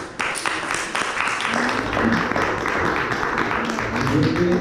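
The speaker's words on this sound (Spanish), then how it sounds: "Fuerte aplauso, por favor, para recibirla." A seated academic audience at a history panel applauds steadily, welcoming a speaker, with dense, continuous clapping that holds at an even level throughout.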